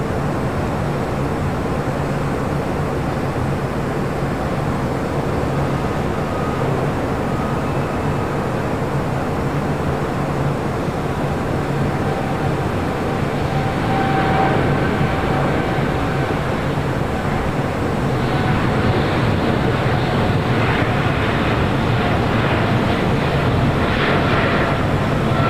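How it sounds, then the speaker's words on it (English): A Qantas heavy jet rolls down runway 25 right at LAX, a broad, steady roar of engine noise that swells slightly and gains a hissing edge toward the end, heard from a distance without talk. "the big Q now rolling down 25 right"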